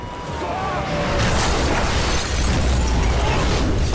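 A large on-screen explosion from a Christmas horror film, with a truck or a house blowing up: a loud, sustained roaring blast with crackling debris that fills the full four seconds without letting up.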